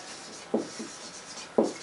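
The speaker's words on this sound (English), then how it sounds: "Let me write here." Chalk or marker writing on a board during a lesson, two short, soft scratching strokes about a second apart, close and faint, with no talk.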